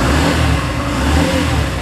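A 2021 Yamaha FZ-X BS6 motorcycle engine revs loud and close, a continuous throaty engine roar that swells slightly as the throttle opens, with no talking.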